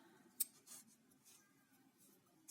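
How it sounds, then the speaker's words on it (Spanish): Scissors snip through a trouser zipper during sewing alterations: a few faint, quiet cuts with one sharper click early on, close up, with no voices. "Y ahora cortamos la cremallera."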